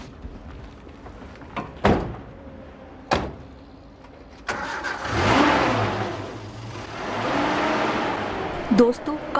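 A car door thuds shut a few times, then the engine starts and revs up as the car drives off, with brief voices nearby.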